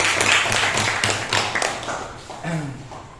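Classroom applause for a student, a short burst of scattered clapping with taps and thumps that fades over a few seconds, with a voice speaking briefly near the end.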